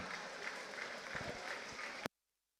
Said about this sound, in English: Can we once again give a huge round of applause for our young performers